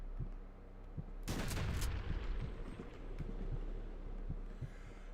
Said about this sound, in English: there's a guy under the floorboard shooting at me